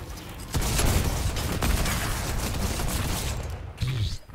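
Drum shotgun fired rapidly in the Fortnite video game, a loud continuous burst of booming blasts and gameplay noise lasting several seconds, with voices faintly underneath.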